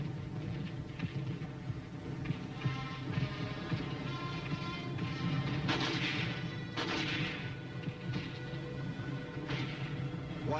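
Tanks and machine guns fire in Korean War combat footage, with heavy booms and dense bursts rumbling on and off at a moderate distance over a constant low roar.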